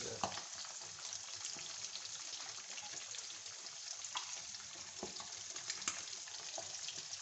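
Fish fries in hot oil with a steady, soft sizzle, broken by a few faint scrapes and clinks of a spoon lifting the pieces out.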